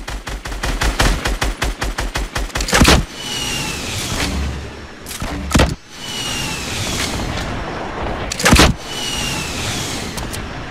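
Gunfire in the Fortnite video game opens with a rapid, loud run of automatic shots, followed by a few heavy, booming blasts over a dense rumbling game background, with no voices.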